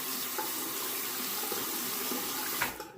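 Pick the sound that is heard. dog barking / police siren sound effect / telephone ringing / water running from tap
water running from tap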